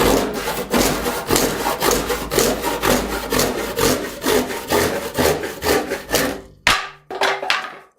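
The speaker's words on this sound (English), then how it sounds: "A buck saw is a great tool for just quickly cutting things to length" A hand buck saw cuts wood to length with a fast, even train of rasping push-and-pull strokes, close and loud, slowing to a few final strokes as the cut finishes.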